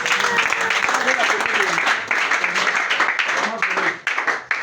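A church congregation applauds steadily and fairly close, dense clapping that carries on throughout with voices and shouts mixed in.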